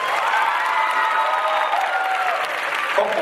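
Audience applause for a big band at a Thai country-song singing contest, a dense, steady wash of clapping from a sizeable crowd that holds evenly throughout with faint cheering mixed in.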